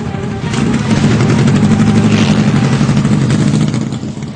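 Motorcycles of a bikers gang roaring through Connaught Place in Delhi at 2 a.m., a loud sustained engine drone with revving and clatter that rises after a half second and holds steady before easing at the end.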